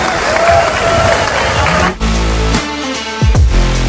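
An audience at the international tattoo convention in Lille applauds the first-prize winner: dense, steady crowd clapping for about two seconds, then it cuts off, leaving music and scattered noise.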